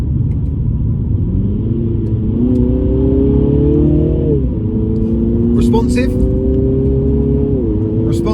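A 2020 Mini John Cooper Works Clubman engine revs hard through a manual gearbox and climbs in pitch, dropping briefly at each gear change before rising again, loud and close throughout.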